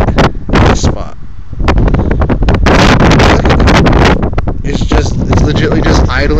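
A stuck car's engine revs steadily while a tire spins and whirs loudly in place in deep snow, with people talking over the noise throughout.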